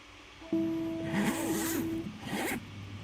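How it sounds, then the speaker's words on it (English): A zipper on clothing is pulled in two quick rasping strokes close up, set over a faint steady tone and quiet room background. "zipper sounds, which is great, but now I need to stack the zipper sound with the piano sound"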